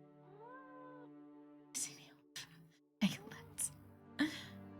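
A cat meows a couple of times in the horror video game Seven Keys, its rising and falling cries set over steady droning game music and broken by a few sharp thuds.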